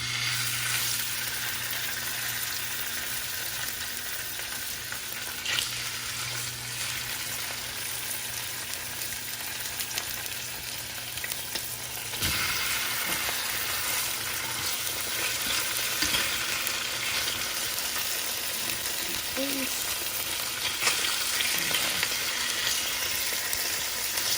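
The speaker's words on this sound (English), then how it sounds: "You can hear the sizzling sound, so what I'm gonna do is I'm gonna put in my salmon." Steady sizzling and crackling of salmon frying in a pan, a continuous hiss that grows a bit louder partway through, with no voices.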